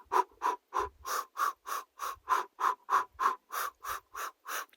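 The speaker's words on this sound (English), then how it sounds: "Do a bit of energized breathing to inflate yourself, to energize yourself" A person does an energizing breathing exercise outdoors: about fifteen quick, forceful, evenly spaced breaths in a steady rapid rhythm, close and clear, with no speech.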